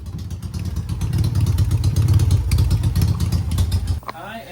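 A Yamaha XS650 motorcycle engine runs close by with a loud, clattering, uneven exhaust that spits and pops, before cutting off abruptly as a voice begins.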